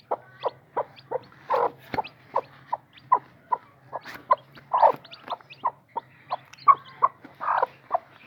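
A hen with newly hatched naked neck chicks gives short, repeated clucks in a steady rhythm, close and clear over a low hum, with no speech.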